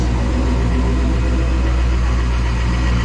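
A supercharged car engine with tube headers, high-flow cats and a catback exhaust idles steadily at close range, a deep, continuous rumble with a throaty exhaust tone and no other sounds.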